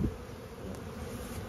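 Honey bees fly around the entrance of a hive during a spring inspection, making a soft continuous buzzing hum that holds steady and faint through a short stretch with no speech.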